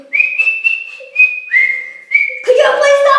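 Someone whistles a simple tune of several sustained, sliding notes, closely recorded, ending with a brief burst of voice or noise.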